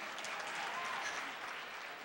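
Continuous dense clapping from an audience at a live stage show, a steady wash of applause throughout with no gaps.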